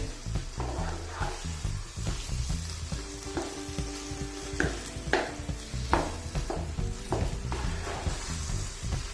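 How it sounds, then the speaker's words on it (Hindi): Peeled tomatoes sizzle and hiss in a karahi of restaurant-style Afghani chicken karahi, with steady close frying and the scrape and clack of a spoon stirring through the pan. "अब इसको थोड़ा सा हिला देंगे।"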